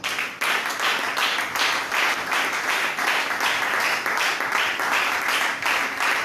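A church congregation applauds the Lord together, dense steady clapping with rhythmic swells running throughout, close and loud, with no talking over it.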